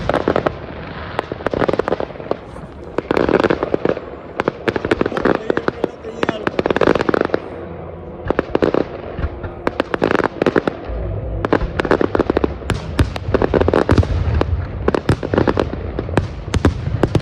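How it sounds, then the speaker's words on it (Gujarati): Firecrackers burst in rapid, loud clusters close by, popping and cracking almost without pause while people talk over the din. "અહીંયા ફટાકડા ફૂટે"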